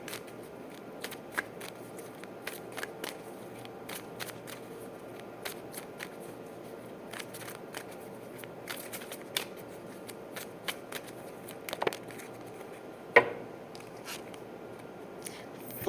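Tarot cards are shuffled by hand for several seconds, a continuous close papery riffling and sliding with small irregular snaps and taps, and no one speaks over it.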